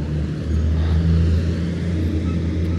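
Nasser Al-Attiyah's Prodrive Hunter Dakar rally car, heavily damaged during the Dakar 2024 rally, gives off a loud, close, steady low engine drone with even tonal hum throughout.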